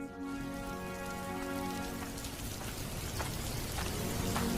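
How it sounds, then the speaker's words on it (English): Rain falling in a cartoon, a dense and steady patter that washes over everything, with a fading tone at the start and no talk. "It's already cold, and now this rain and freezing wind."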